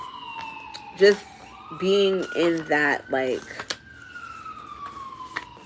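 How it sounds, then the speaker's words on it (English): Emergency vehicle sirens wail outside, a rising-and-falling electronic tone running steadily through the background while a person talks close by over it. "Excuse the sirens outside."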